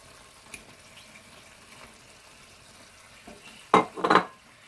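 Penne pasta being stirred into arrabbiata sauce in a pan, mostly a quiet low simmer, then two short wet, squelching scrapes of mixing close by at the end.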